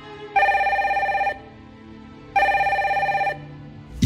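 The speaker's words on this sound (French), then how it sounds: "le téléphone se met à sonner" Telephone bell ringing as a sound effect in a French radio crime story: two long trilling rings separated by a pause, clear and close, with no talk.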